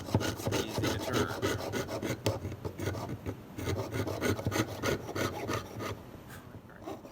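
Hand saw cutting through wood in steady back-and-forth strokes, a dense rasping rhythm repeating close and loud for the whole stretch with no talk.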